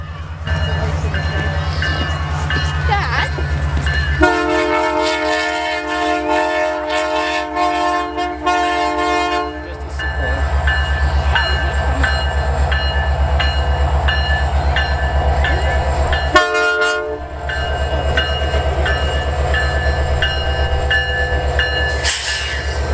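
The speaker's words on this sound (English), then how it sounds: "Here we see 2249 rounding the bend with lots and lots of school kids excited for this such well-lit train." CPKC Holiday Train locomotive 2249 rounds a bend with a loud, continuous rumble and clatter of rail cars. Its horn blasts in long chords several times, close and dominant.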